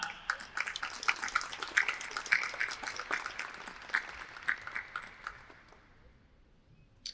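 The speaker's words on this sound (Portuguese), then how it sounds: "conto com as palmas de todos vocês para acolhermos Larissa Vieira" A conference audience claps in welcome for a speaker, a moderately loud burst of mixed applause that holds for several seconds and then thins out and fades, heard alone from across the room.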